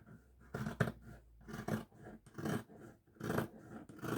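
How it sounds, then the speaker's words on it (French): Plain scissors cutting through several layers of fabric, a steady series of close crunching snips repeating about every half second, with no talk over them. "on va prendre les ciseaux tout simples"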